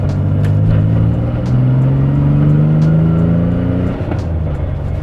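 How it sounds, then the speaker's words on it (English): A manual-transmission JDM car engine revs up through several gears, pitch climbing then dropping at each shift, loud and close, with a brief whooshing blow-off valve release near a gear change. "that little blowout valve that you hear in there makes it so much more fun to get through the gears"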